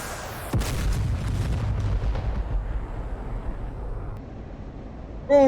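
A weapon strikes its target in the DCS World flight simulator during an F-16 Viper mission: one sudden heavy blast followed by a long rumbling decay, then a brief burst of noise at the very end, with no talking.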